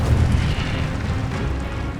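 Incendio fire spell bursting in the Hogwarts Legacy video game, a loud, close, rumbling blast with a booming low end that eases into a sustained roar over about two seconds.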